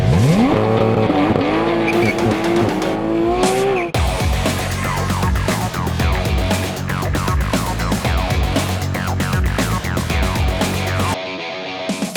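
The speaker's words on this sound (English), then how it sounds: "So here we are now driving the GT3 991" A Porsche 911 GT3 of the 991 generation drives hard, its loud, close engine note climbing and falling through the gears, with bursts of tire squeal and a sudden change partway through.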